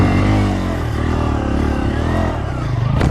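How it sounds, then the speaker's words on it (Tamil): A Bajaj Pulsar motorcycle doing a wheelie, its engine droning loud and close with a steady harmonic hum that holds level before a slight rise at the end. "2 காலும் மேலே வச்சு வீலி."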